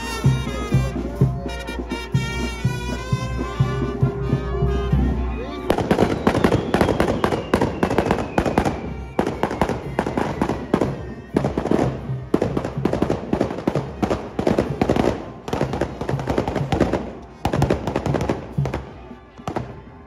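Fireworks burst at a village procession for the Virgen del Carmen in Santa Maria Tonantzintla. After a few seconds of band music, dense, rapid crackling and banging explosions continue loudly and almost nonstop.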